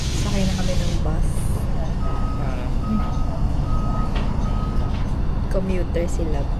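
City bus in Toronto at a stop, engine rumbling up close with repeated high reversing-style beeps sounding in a steady series, while people talk over the traffic noise.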